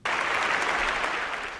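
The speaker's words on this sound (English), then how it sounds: "The crowd is applauding the man standing next to him." An audience in Boston Symphony Hall breaks into loud, sustained applause, a steady wash of clapping that starts abruptly and carries on without a break.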